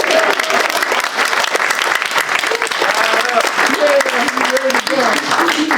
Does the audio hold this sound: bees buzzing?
no